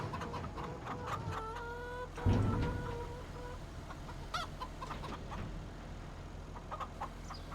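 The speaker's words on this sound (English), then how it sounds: "feed these chickens if we can" Clucking chickens on a farm in the game Farming Simulator 25 repeat soft calls over a steady low hum, with a brief thump and some clicks, and no talking.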